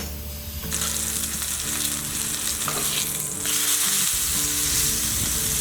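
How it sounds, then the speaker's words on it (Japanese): Beef browns in a hot pan for roast beef, a loud steady sizzle with crackling that swells partway through, a few soft scrapes as the meat is turned, and a faint hum underneath. "焦げないように表面を確認しながら焼いていきます。"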